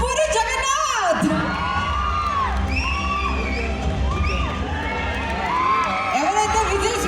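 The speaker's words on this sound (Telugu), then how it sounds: "గట్టిగా చప్పలతో మన ఆకాష్ జగన్నాథ్కి గట్టిగా చప్పలతో స్వాగతం పలుకుదాం" An audience at a television awards ceremony cheers, whoops and shouts as Akash Jagannath is welcomed on stage. The sustained, loud crowd noise has whistles and rising cries, with a voice speaking over it.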